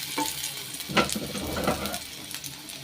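Onion frying in oil in a pan for vegetable kurma masala, a close sizzle broken by several scraping stirs of a spatula against the pan.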